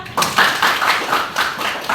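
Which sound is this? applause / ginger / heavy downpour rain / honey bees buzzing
applause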